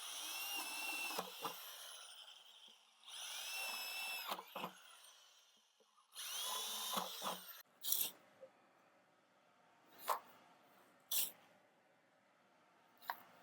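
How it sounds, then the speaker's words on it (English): Three bursts of a power drill with a spade bit whining as it bores drainage holes through a plastic pot, each a couple of seconds long, followed by scattered clicks and handling noises. "So I'm going to drill some drainage holes. To do this, I use a spade drill bit."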